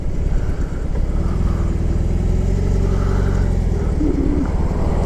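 A BMW R18 motorcycle engine while riding, a steady low rumbling drone with wind noise, continuous and close for the whole stretch with no talking.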